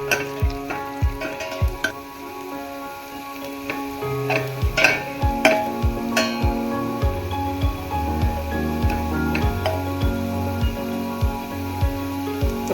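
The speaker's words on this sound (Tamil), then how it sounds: "வெங்காயம் நல்லா வதங்கணும், வாசனை வரணும்." Onions sizzle and fry in a hot pan for a white kurma, a steady close crackle with frequent ticking stirs and clinks of a utensil against the pan, and no one speaking.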